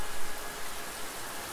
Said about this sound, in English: As the rain falls down.